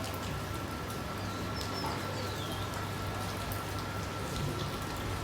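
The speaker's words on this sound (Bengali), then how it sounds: "এখনো বৃষ্টি হচ্ছে ঝিরিঝিরি বৃষ্টি হচ্ছে এখন" Light drizzling rain patters steadily and evenly throughout, with faint bird chirps far off in the background and no talk.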